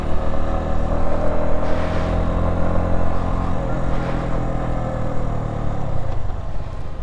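A CFMOTO off-road vehicle engine pulls through the gears, rising in pitch, dropping at each shift, then rising again, a loud close rumbling drone with wind noise.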